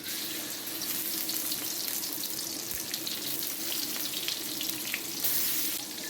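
Steady loud sizzling and crackling of anchovies frying in hot oil over medium heat, continuous and close, with no voices.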